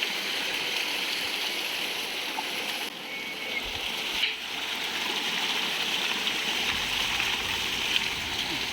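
Steady rushing of a flowing mountain stream, a continuous broadband wash of water running on its own with no voices.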